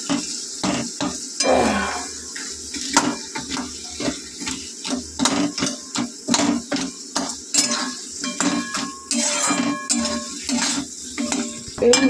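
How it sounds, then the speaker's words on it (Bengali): A metal spatula scrapes and knocks in a cooking pan as a fried fish head is broken up among sizzling spices for a fish-head curry. The strokes come in a rapid, irregular clatter, close and fairly loud, and no one speaks. "এবারে খুন্তি দিয়ে একটু ভেঙে ভেঙে দেবো।"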